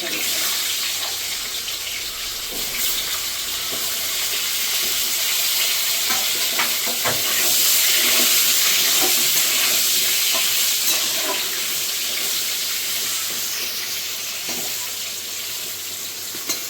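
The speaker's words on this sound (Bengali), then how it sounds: "আলুটাও ভালো করে একটু ভেজে নেব।" Potatoes fry in a pan with whole spices, giving a steady, loud, close sizzle that swells slightly midway, with occasional faint scrapes of stirring.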